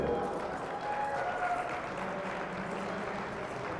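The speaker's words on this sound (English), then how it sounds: "Please, a round of applause for your number 1 qualifier" Spectators at the 2019 U.S. National Indoor Archery Championships final applaud archer Grady Ellison, a soft, diffuse wash of clapping in a large hall, faint and steady with an announcer's voice mixed in.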